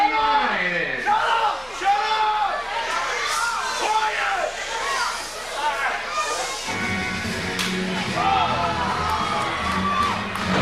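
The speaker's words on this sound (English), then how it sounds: "Bobby Rossi's in a world of hurt right now, to the delight of many of the fans here at ringside." Loud, sustained cheering and shouting from a wrestling crowd at ringside during a 2012 Christmas Chaos wrestling show, with a commentator talking over the din throughout.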